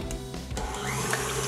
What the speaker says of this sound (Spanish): Las colocamos en el bol de la batidora y empezamos a batir con las varillas.